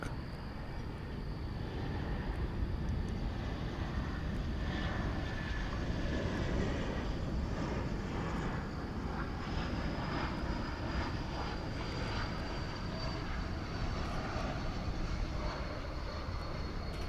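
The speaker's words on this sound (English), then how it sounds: "let's check out the aviation stylings of Delta Flight 870 coming in to us from Seattle on an Airbus A220" A Delta Airbus A220 arriving at DFW airport at night, a sustained loud jet engine roar with steady broadband rushing that holds level throughout, heard alone without talk.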